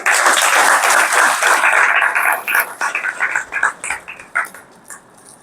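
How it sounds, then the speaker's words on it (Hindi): An audience claps at a spiritual gathering, a dense, loud burst of hand claps at first that thins into scattered, uneven claps and trails off toward the end. "ताली बजाओ"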